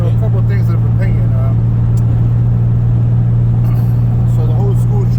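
A car rolls along with a loud, constant low engine and road rumble throughout, while someone talks over it from inside the cabin.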